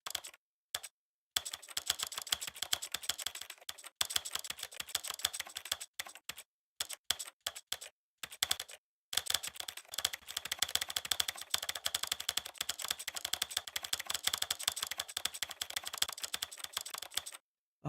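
Rapid, steady clattering of computer keyboard keys during PC gaming, close and continuous with a few brief pauses, dense tapping bursts throughout and no talking.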